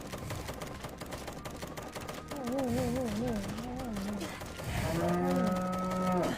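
Cow mooing in a Roblox video game, two long wavering moos in succession over a busy, dense game soundscape with clicking and mechanical noise.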